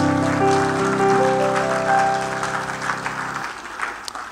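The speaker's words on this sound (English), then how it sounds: "Give the Lord a hand clap." A church congregation claps in a steady burst of applause at the close of a prayer, with a sustained musical tone underneath that stops near the end.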